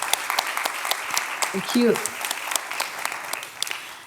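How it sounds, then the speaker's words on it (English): Applause for two panel speakers at a health ecosystem conference session, a light, scattered patter of clapping that runs the whole time, with a brief spoken thanks in the middle. "Let's give Pauline now and Vanessa an applause."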